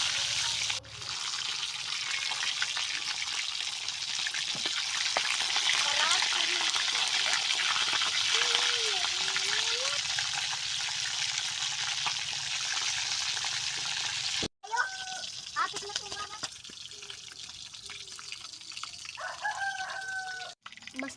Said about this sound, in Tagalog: Ang isda sa mantika.